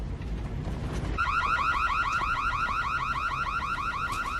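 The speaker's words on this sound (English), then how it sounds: "Oh, you probably set off Chris's alarm on your way out." A car alarm goes off after a second of low rumble and muffled noise, then cycles a loud, rapid warbling siren tone steadily to the end, with no one speaking.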